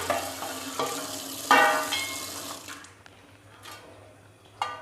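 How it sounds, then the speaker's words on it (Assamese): Fish fries in hot oil in a home kitchen, giving a crackling sizzle with sharp spitting bursts. Faint clinks from stirring are heard, and the frying calms slightly toward the end. "তেলটো গৰমৰে মাছটো ফ্ৰাই কৰিম"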